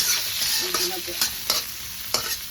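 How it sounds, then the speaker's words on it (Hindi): Onions sizzle and fry steadily in a pan, with a few sharp stirring scrapes breaking through the hiss, as a tempering for a dry potato dish. "अभी मैंने प्याज इसमें थोड़ा सा भून रही हूँ।"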